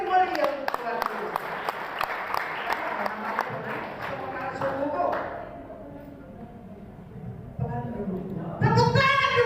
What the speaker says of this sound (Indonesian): Tepuk tangan dulu yang lebih mulia untuk Tuhan Yesus.